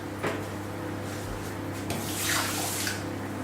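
Water poured from a cup into a bowl sitting on a stove, a steady splashing trickle for a few seconds over a constant low hum, close and fairly loud.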